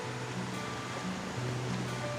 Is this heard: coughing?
no